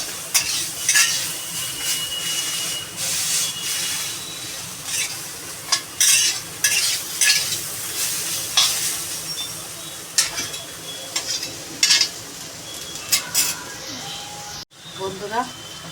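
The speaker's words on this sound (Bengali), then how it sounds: "এরকম চেপে চেপে পুরো রসটা বের করে শুকিয়ে নেবো" Spiny gourd (kakrol) frying in a pan as it is pressed and stirred to dry out its juices, with a steady sizzle and repeated scraping and clinking of a spatula against the pan, close and continuous.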